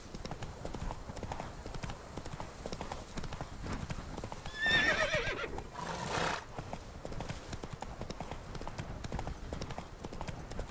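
A horse gallops in The Witcher video game, its hooves clip-clopping steadily at moderate volume, with a brief whinny and swell of louder movement midway.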